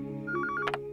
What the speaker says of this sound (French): J'ai dit à Prita et à Shrishti des milliers de fois d'appeler sur mon téléphone au lieu du fixe à cette heure de la nuit